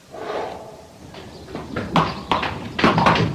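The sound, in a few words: frightened thoroughbred horse hooves and whinny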